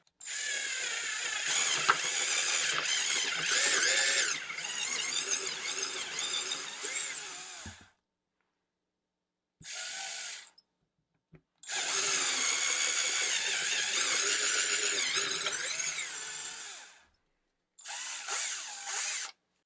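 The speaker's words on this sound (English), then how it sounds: "So let's try drilling a hole here." An Altocraft 12V compact cordless drill whines loudly in long bursts while drilling a hole, stopping briefly between runs, then a short final burst; no talking.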